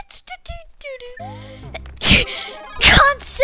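Two loud, forceful sneezes from a person playing New Super Luigi Bros. U Deluxe, bursting out about a second apart over bright chiming game sound effects and music.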